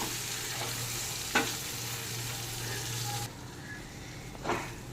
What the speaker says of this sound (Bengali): এবার ভালো করে মিশিয়ে নেব মশলাটাকে সবজিগুলোর সাথে